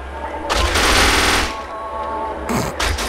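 Rapid submachine gun bursts from the video game Kane & Lynch 2: Dog Days, a loud sustained volley followed by a shorter burst, with gunfire effects filling the mix and no talk.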